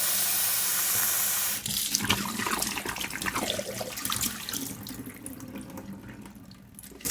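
Tap water runs steadily into a jar of China Rose radish sprouts being rinsed at a sink, a close, continuous splashing wash that starts after a brief louder gush and carries on alone.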